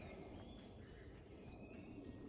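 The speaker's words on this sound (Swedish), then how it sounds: "Det är bara fåglarna man hör." Birds sing faintly in a forest along the Hanstaleden trail on Järvafältet in Sollentuna, with a few thin, distant chirps over a quiet, steady background and no talking.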